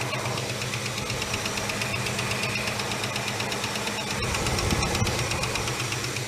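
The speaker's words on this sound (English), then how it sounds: "I'm not sure whereabouts in the motor that lift noise is." A boat engine idling roughly on a cold start, with a steady rapid ticking lifter knock running through the low mechanical rumble, close and continuous.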